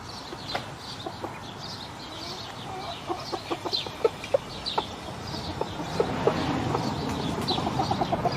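Chickens cluck in short, scattered calls, some near and some farther off, with soft peeping and rustling in the background and no talking.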